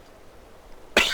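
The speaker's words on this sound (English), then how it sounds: "I'm coughing and yelping like that" A sick man gives a single sudden cough, loud and close, after a second of quiet room tone.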